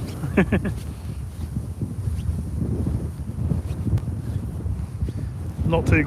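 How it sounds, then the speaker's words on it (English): Steady wind buffets the microphone in low rumbling gusts throughout, beside floodwater on the Norfolk Broads, with a few brief voice fragments at the start and end. "Oh, it's windy."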